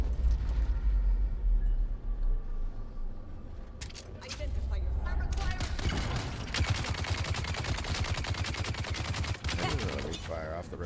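Rapid gunfire while shooting enemies in Dungeon Defenders, a dense stream of repeated shots starting partway through and continuing steadily, mixed with game effects and a voice talking over it.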